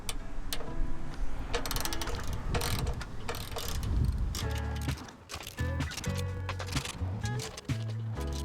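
A ratchet cranks off the bolts on a stock Jeep bumper, with rapid clicking bursts and metallic clatter, close and fairly loud, over a continuous background rumble and some tonal humming.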